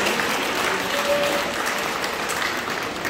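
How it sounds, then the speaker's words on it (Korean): A room at a church press conference fills with steady applause, dense continuous clapping from a gathered crowd, with a voice faintly audible in the middle. "박수 박수."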